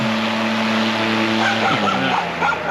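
A motor on a DIY solar-powered pontoon houseboat running under throttle, giving a steady loud hum with a pitch that rises and wavers toward the end.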